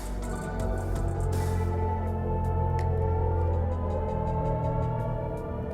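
Sustained synthetic hum made of layered steady tones, an artificial driving sound played inside a luxury sedan, droning with faint ticking clicks drifting over it, no voices.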